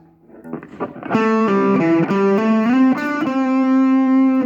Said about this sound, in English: If I was using quite a high gain, in other words, an overdrive or distortion